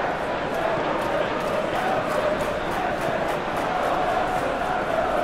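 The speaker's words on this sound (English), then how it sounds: "Well, the crowd clearly like what they just saw." Stadium crowd in the PES 2021 football game with a realism mod at an Everton versus Arsenal Premier League match, a steady dense roar of cheering filling the background throughout, loud and continuous without clear peaks.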